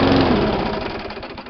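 A Murray/Toro lawn mower engine, cold and not run for over a month, firing up with a loud close mechanical chug that fades slightly over a second and a half.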